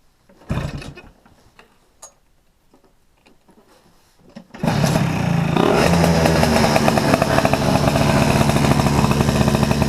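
A motorcycle engine fitted with an Ignitech DC-CDI-P programmable ignition, after a few faint clicks and knocks, starts and runs steadily, loud and close, with a rapid ticking rhythm.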